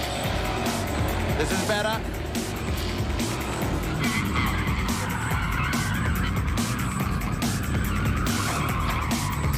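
Rally car sliding with its tyres smoking, a continuous engine roar and gravelly skid noise with a short tyre squeal, under someone speaking.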